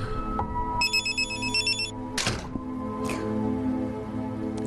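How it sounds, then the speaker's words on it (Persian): A telephone rings in a quiet indoor scene, a bright electronic trill sounding in one burst, followed by a couple of clattering knocks. "رفعت زنگ زده"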